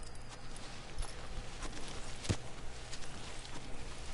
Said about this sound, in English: And Aggro, with her kind of realistic horse physics, she won't actually run through the grass